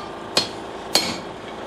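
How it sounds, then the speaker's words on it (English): Two sharp hammer blows ring out on hot coil spring steel resting on an anvil, the second about half a second after the first, each one loud and close with a short metallic ring and nothing else heard. "So this is probably going to take several heats to do this, and I should be using a different hammer."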